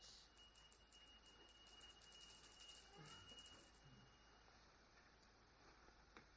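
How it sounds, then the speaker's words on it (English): Bright chimes ring out as a sound effect during a stage production of A Christmas Carol, a shimmering high tinkle for a few seconds that fades away, leaving a quiet room. "he awoke to the sound of chimes"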